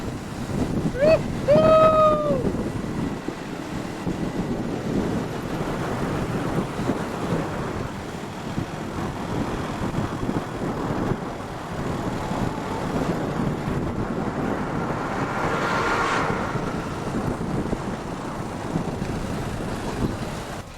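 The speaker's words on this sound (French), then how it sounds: "j'ai le vent qui me souffle comme ça" Steady wind buffets the microphone throughout a motorcycle taxi ride, a broad continuous roar with a few brief tonal chirps near the start and a faint hiss swell later.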